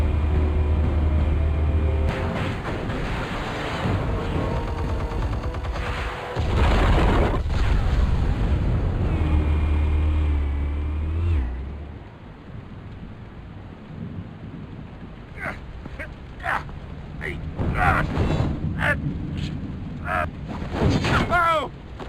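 Heavy explosions and rumbling blasts in the Telltale Batman video game, loud booms in the first half giving way to scattered sharp bursts and crackling debris, with no talking.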